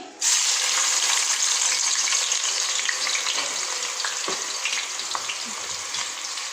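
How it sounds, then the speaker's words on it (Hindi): Finely chopped onions fry in a pan with a loud, steady sizzle and hiss, stirred continuously with a spoon that scrapes now and then, close by and unbroken by talk. "प्याज को हमें इसी तरह चमचा चलाते रहना है, देखिए इस तरह, ताकि ये हर तरफ से एक जैसी हमारी गोल्डन फ्राई हो"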